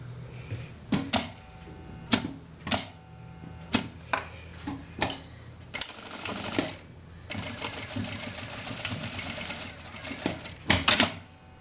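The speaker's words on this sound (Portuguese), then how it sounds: "a gente deixa tudo bem retinho e passa uma costurinha aqui" A sewing machine stitches a zipper seam on fabric scraps, with sharp clicks and knocks first, then a long steady mechanical run of rapid needle strokes, loud and close.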